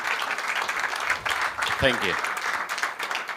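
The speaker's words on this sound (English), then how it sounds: "Come on, people, big applause." Audience applause at a tech conference talk, a dense patter of clapping under a brief spoken thank-you from the stage, steady and moderately loud throughout.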